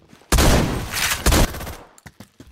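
Shotgun blasts in a first-person shooter, two loud booming shots in close succession followed by several short clicks and clacks of reloading or handling.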